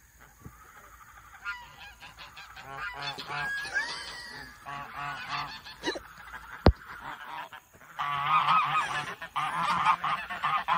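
A flock of pet geese honks in loud overlapping calls that rise to a dense chorus near the end, with a brief human exclamation partway through.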